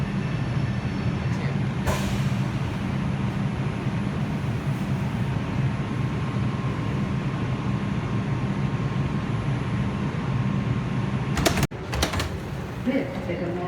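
A Manhattan-bound 2 train on the New York City subway rumbles steadily at loud, close range, with a brief sharp clatter near the end, as if from doors or couplings.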